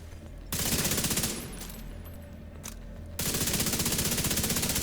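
Rapid automatic assault rifle fire in The Division 2, two long sustained bursts of close, loud shots separated by a short lull.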